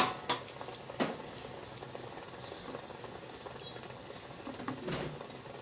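Konkani cucumber vadas (tavsache vade) fry in a pan, giving a soft, faint, continuous sizzle and bubbling with a few small pops.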